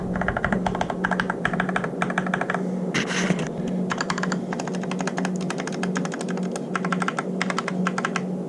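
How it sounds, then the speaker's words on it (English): Typing on a modified GK61 mechanical keyboard, close and loud: bursts of rapid clacky keystrokes with short pauses between, a rattly space bar among them, no talking. "The space bar is still too rattly for me."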